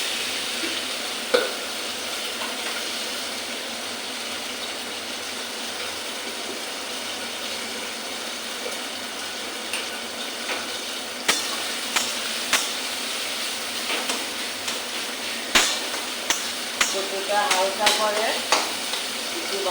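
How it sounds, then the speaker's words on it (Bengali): Pieces of taro, rubbed with salt and turmeric, frying in hot oil in a wok, a steady close sizzle with occasional scrapes and clinks of stirring growing busier toward the end. "আমি ওটা ভাজা করে রাখি"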